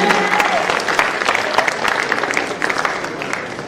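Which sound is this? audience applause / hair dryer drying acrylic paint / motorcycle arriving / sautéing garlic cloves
audience applause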